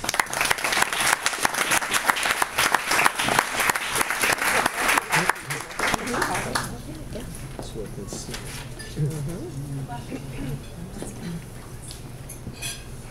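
Audience at a Successful Thinkers Alameda productivity talk claps loudly to welcome a speaker, dense applause that fades out after about six seconds into quieter room noise and faint chatter.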